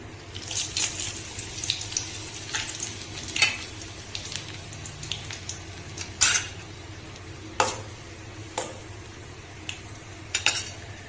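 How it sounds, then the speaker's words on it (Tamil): Mustard seeds pop and splutter in hot oil with sharp irregular crackles over a steady sizzle, plus occasional clinks of a spoon stirring. "கடுகு நல்லா பொரிஞ்சாச்சு"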